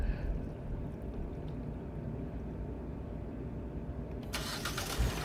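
A sixth-generation Hyundai Elantra's engine cranks and fires near the end, cutting abruptly through a low, steady background hum after a coolant hose replacement.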